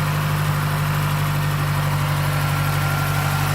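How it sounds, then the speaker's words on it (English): A 2009 Mazdaspeed3 engine idles at a high idle, giving a steady, close, even hum with a constant low drone and no knocking or talk. "So there's no knocking at idle, just typical idling sound."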